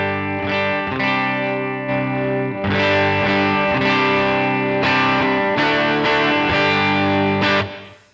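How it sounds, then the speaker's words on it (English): Overdriven electric guitar through an amp drive effect on a Line 6 HX Stomp plays a run of gritty, crunchy chords and notes, loud and close, with a short ringing tail at the end. "That was just some amp drive kicking it up."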